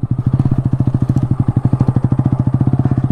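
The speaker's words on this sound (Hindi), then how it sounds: "चलो यहाँ पे बाइक को रोकते हैं और तगड़ा व्यू दिखाते हैं आपको।" A Bajaj NS125 motorcycle runs at a low, steady pace, its single-cylinder exhaust thumping in an even, rapid pulse close by, with a faint clatter over the beat and no talking.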